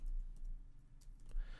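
Soft, scattered keystrokes on a computer keyboard tap irregularly while code is typed, faint and close with a quiet room behind.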